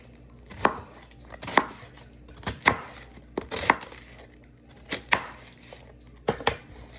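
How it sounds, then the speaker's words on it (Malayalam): Chicken is cut into large pieces for stock with heavy knife strokes on a board, about eight solid thuds at irregular intervals, close and distinct in a quiet kitchen, with no talking. "പിന്നെ ബാക്കി ഒരു ഹാഫ് സ്റ്റോക്കിന് വേണ്ടി മുറിക്കുകയാണ്. അതും ഇങ്ങനെ വലുതായിട്ട് മുറിച്ചിടും."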